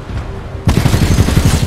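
Gunfire in the Titanfall 2 video game: after a quiet moment, a loud burst of rapid shots breaks out, a rhythmic rattle of automatic fire continuing close and heavy to the end.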